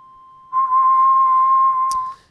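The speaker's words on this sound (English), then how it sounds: "it's the simplest sound that can be produced because it's just a sine wave" A steady 1 kHz sine wave test tone played back in Audacity, a pure, even whistle-like pitch that rises in level, holds for about a second and a half, then stops.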